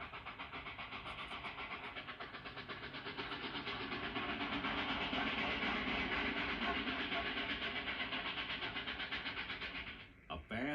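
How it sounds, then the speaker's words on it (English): A fast-running Hudson steam locomotive passes the coal dock at Findlay Street Yard on Dayton's East Side, a loud, sustained rushing rumble with rhythmic rail clatter that builds and then drops off abruptly near the end. "A fast-running Hudson passes the coal dock at Findlay Street Yard in Dayton's East Side."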